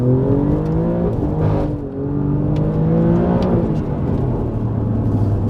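Alfa Romeo Giulia Quadrifoglio engine revving hard on the move, its pitch climbing and falling through gear changes, loud and close from inside the cabin, with road and wind noise steady underneath.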